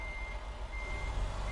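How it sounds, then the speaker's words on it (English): A truck reversing in American Truck Simulator gives a steady run of loud, evenly spaced electronic beeps over a low engine rumble, with no talking. "they're not going to hear this really loud beeping"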